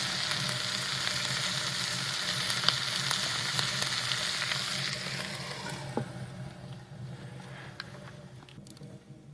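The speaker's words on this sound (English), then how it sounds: "I put that on about 2 minutes ago, and it's sizzling already." Corned beef hash sizzles in a pan on a portable wood stove, a dense steady frying hiss with occasional pops and stirring clicks, gradually quieting toward the end.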